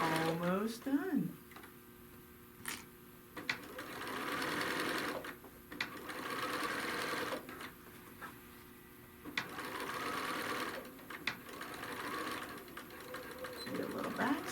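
A sewing machine stitches a bag in several bursts of rapid whirring with short pauses between, ending in a brief back stitch, while a person talks over parts of it.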